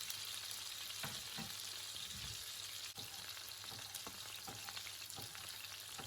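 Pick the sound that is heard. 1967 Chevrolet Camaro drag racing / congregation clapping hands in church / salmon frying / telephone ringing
salmon frying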